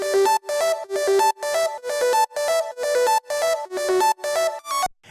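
Synth lead arpeggio from a patch called Blue, a bright, bell-like tone repeating in quick even pulses of about ten notes, each held briefly with a short gap, played alone and fairly quiet.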